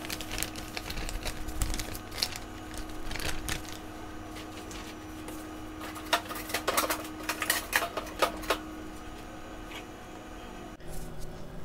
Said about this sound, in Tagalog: habang hinahalo natin dito